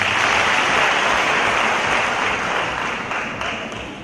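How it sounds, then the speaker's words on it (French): An assembled audience at a ceremony claps in a dense, steady burst that gradually fades toward the end. "que je vous demande de vous applaudir pour nous"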